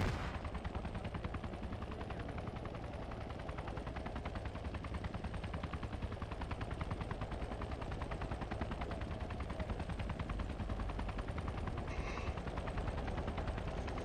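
A helicopter comes in to land in ARMA 3, with a loud, close, steady rotor chop that drones on without a break the whole time.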